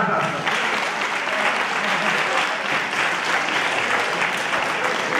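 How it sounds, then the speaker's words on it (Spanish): Sustained audience applause at a Brazilian jiu-jitsu exhibition at a convention, dense and steady clapping from a crowd for about five seconds with no pauses. "un aplauso"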